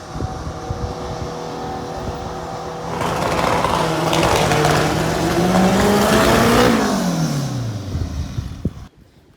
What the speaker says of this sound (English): here's a random guy launching his car.